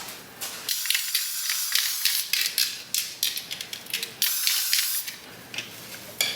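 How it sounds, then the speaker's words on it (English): Hair spray hisses in a rapid series of short, close bursts onto the hairline of a blonde 613 wig, the sprays coming in quick repeated pulses with brief pauses between them. "I'm gonna go ahead and spray the hairline back like I always do"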